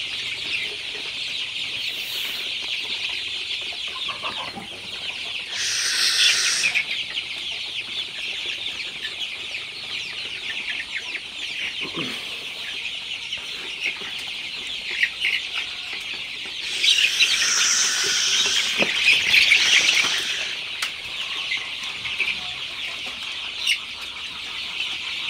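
A flock of Sonali chicken chicks on a poultry farm, peeping and chirping continuously close by, with louder bursts of clucking and calls swelling up at intervals over the steady chorus.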